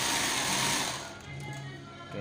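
A sewing machine runs steadily close by, stitching a senator suit chest pocket with a continuous whirring drone that eases slightly toward the end, and no one speaks.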